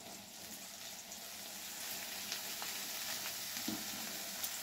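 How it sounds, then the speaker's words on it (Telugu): Boiled cabbage frying in a pan for curry, a steady faint sizzle with occasional soft stirring scrapes and no voices. "క్యాబేజీ వేసిన తర్వాత కొంచెం ఫ్రై చేసుకుందాం అటు ఇటు."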